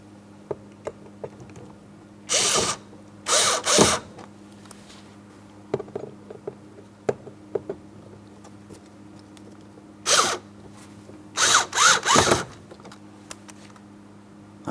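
Power driver tightening Phillips head screws into a 2003-2007 Cadillac CTS interior door handle, several short whirring bursts in separate runs over a quiet background with faint handling clicks.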